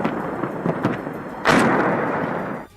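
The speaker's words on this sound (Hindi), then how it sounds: "रूस की तरफ से अज़ोवस्ताल स्टील प्लांट के आसपास बरसाए गए बम तेज चमक के साथ धमाका करते दिखाई दिए" Russian bombs explode around the Azovstal steel plant, a few distant rumbling thuds followed by a heavier, sustained roaring blast that fades away.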